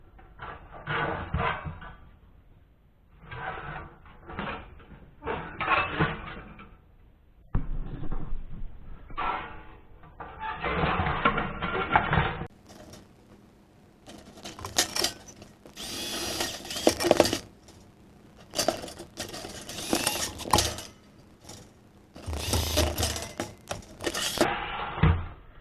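A power drill drives screws into the tin of a firestop kit for a Case IH 8010 in short, repeated bursts separated by pauses, with metallic rattling and handling noises between runs, fairly close and with no talking.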